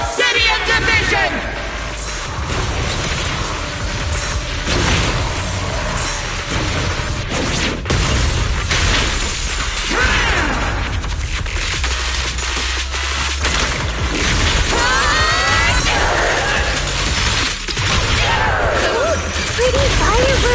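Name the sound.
fireworks exploding in Zenless Zone Zero video game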